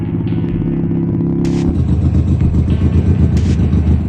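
Morbius 250 cruiser motorcycle with a DOHC 250cc engine, idling with a steady low throb and then revving into a louder, choppy, pulsing roar close by, with no talk.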